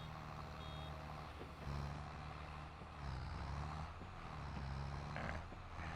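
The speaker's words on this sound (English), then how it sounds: "beeping, by the way, is when the baler's almost full" A baler's almost-full warning beeps in a farming game on the Erlengrat map, a regular repeating tone pulsing every second or so over the low drone of the tractor engine, with no talking.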